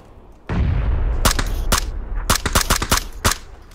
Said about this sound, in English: Watch out, shooting back at us.